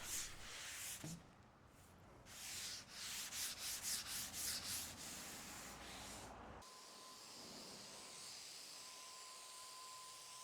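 Rhythmic scratchy rubbing of a sanding sponge on a vintage wooden dresser in quick strokes, then a quieter steady hiss with a faint tone.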